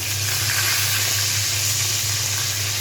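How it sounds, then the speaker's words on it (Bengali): Hot oil fries in a pan during home cooking of taro and potato, producing a steady, close sizzle with no voices over it. "কচু আর আলুটা ভাজবো আর কি।"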